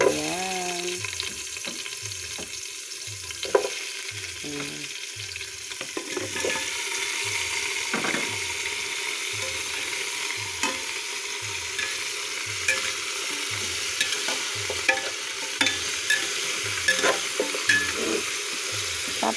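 Chicken feet fry with green labuyo chili in a pan, a steady sizzle with stirring and scraping that stays close and even with no talk over it.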